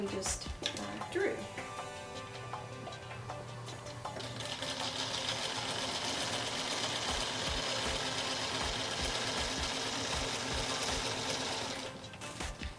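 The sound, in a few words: sewing machine stitching a diagonal line on fabric squares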